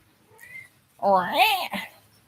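A cat gives one loud, close, drawn-out meow that rises and falls, preceded by a fainter short sound.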